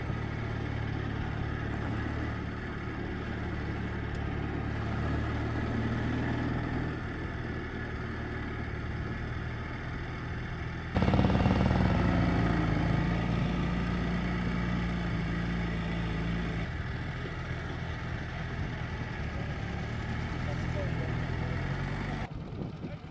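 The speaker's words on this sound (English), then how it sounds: "It's such a smooth wee engine." An old, smooth-running small motorcycle engine droning steadily while riding, a continuous low hum with wind noise, shifting in pitch partway through.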